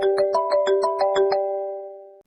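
A phone ringtone for an incoming call plays loud and close: a quick run of about eight bright melodic tones, then a held chord that slowly fades out.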